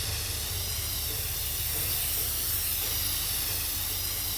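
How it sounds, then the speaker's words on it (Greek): A loud, continuous spray-power hiss from the inFAMOUS Second Son video game, a steady broad rush that holds without a break. "Κάνω σπρέι απίστευτο."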